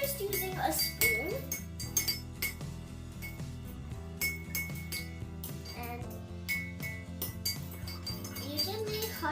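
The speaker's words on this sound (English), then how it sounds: "Next, we're going to mix it. So you can use anything that you want to mix it. So we're just using a spoon." Metal spoon clinking and scraping against a mug while stirring hot chocolate, with repeated bright rattling taps throughout and some faint speech in the background.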